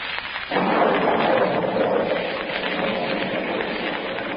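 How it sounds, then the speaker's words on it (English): Steady heavy rain hisses alongside a rolling rumble of thunder that swells in and lingers, with no voices present. "a heavy thunderstorm is gradually diminishing"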